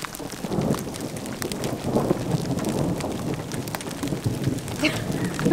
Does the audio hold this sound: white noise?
no